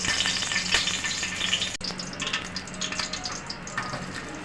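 Chopped onions fry in hot oil for an eggplant and potato curry, a dense, continuous close sizzle with a sharp clatter partway through, then a softer bubbling hiss.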